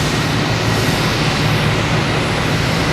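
An American Airlines airliner arriving at Boston Logan Airport makes a loud, steady jet roar with a broad rushing rumble that fills the whole stretch without letting up.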